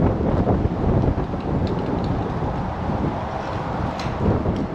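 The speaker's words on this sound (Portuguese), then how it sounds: "Chegámos a Flagstaff, está uma ventania" Strong wind roars outdoors in Flagstaff, Arizona along Route 66, a dense, continuous buffeting rumble battering the microphone for the whole stretch, with no talking over it.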